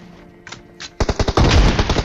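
Rapid gunfire in PUBG Mobile gameplay during a close-range rush with a shotgun, starting with a few faint shots, then a loud dense burst of rapid shots for the final second.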